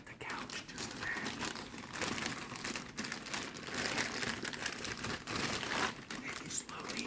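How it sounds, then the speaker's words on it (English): A plastic bag holding car headlights is sliced open with a knife, giving steady crinkling, rustling and tearing plastic close by for several seconds, with hushed voices murmuring underneath. "Take the knife, cut the bag at the couch, just the bag."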